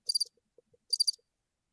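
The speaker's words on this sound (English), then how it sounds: "It's crickets." Crickets chirp in short, bright, rapid trills, two bursts with a pause between and a third starting at the end. Faint soft ticks sit in the near silence around them.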